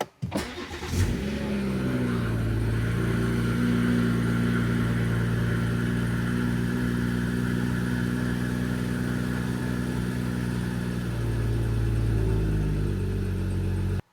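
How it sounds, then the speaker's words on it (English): A BMW car engine cranks and catches, then settles into a steady, loud idle close by, its low hum holding evenly for over ten seconds before a slight shift near the end. "So I need to start the car. So let's start the car."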